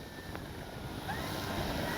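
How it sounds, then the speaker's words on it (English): Wind buffets the microphone in a constant rough roar that grows stronger midway, with a faint whining tone above it from an E-flite Carbon-Z T-28 RC plane flying. "It is so windy today."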